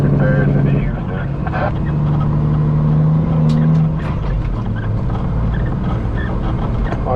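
A custom Peterbilt truck creeps through a snowy town during a blizzard, its engine a loud, low, steady drone with shifting tones, and people talk over it from inside the cab.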